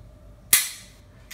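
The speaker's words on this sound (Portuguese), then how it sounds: "o candidato pega no carregador, coloca o carregador da arma, leva a corrediça à frente, retira a segurança manual, efetua o disparo simulado" Simulated firing of a pistol during a handling exam for a federation licence: a single sharp dry-fire click of the trigger rings briefly and close, followed by a faint second click.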